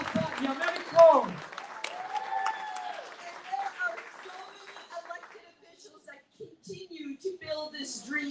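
A crowd at a citizenship clinic applauds volunteers, with brief clapping near the start that fades as a speaker talks over it through most of the stretch.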